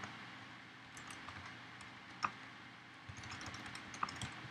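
Quiet typing on a computer keyboard while entering a host entry, irregular soft clicks with a couple of sharper key taps, close and alone with no voices.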